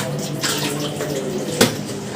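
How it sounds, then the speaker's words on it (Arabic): Glassware being washed under a running kitchen tap, with a steady hiss of flowing water and a single sharp clink of glass near the end, close and fairly loud. "نغسل بقى ايه الازاز الاول"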